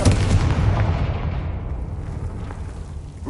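A Confringo blasting spell erupts in Hogwarts Legacy, a loud, close explosion with a deep rumbling boom that slowly fades over a few seconds.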